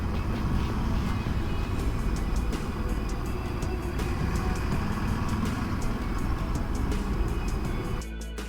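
Motorcycle riding through a town on a European moto trip, Ducati Desert X or BMW 1250 GSA, with a steady, loud engine and road rumble throughout that drops away abruptly near the end.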